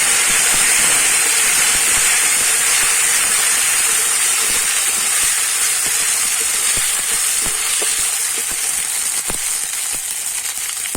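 A spoonful of ginger and garlic paste fries in hot oil in a pan, a loud, continuous sizzling hiss close by with faint clicks of stirring throughout.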